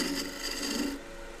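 A wood lathe gouge takes a pitched peeling cut on a turned stool leg, making a continuous raspy shearing hiss for about a second before it drops away to a quieter background.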